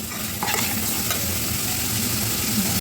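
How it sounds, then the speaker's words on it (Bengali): Spice paste with chilli powder and salt frying for doi katla, a dense steady sizzle with a few scraping stir strokes, close and continuous without any voices. "এই মশলাটাকে আমি একটু কষিয়ে নেব,"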